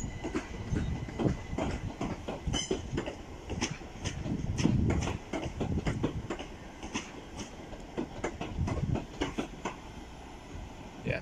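Class 387 Electrostar electric multiple units rolling through Didcot Parkway station, a steady run of rhythmic clickety-clack wheel beats over rail joints with continuous rumble, close and moderately loud, no talking.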